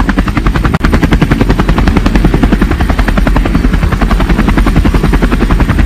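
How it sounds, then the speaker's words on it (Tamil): A helicopter taking off at an election-results location, its loud rapid rotor chop pulsing steadily and close up, with the heavy engine drone continuing alone throughout. "ஹெலிகாப்டர் கிளம்பியாச்சு."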